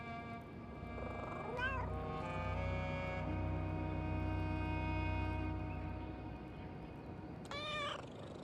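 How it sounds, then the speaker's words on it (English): A cat in the video game Eclipsium meows and caterwauls in two drawn-out cries at the start and end, with a soft, steady purring hum running underneath, alone with no talk. "It even has different purr sounds."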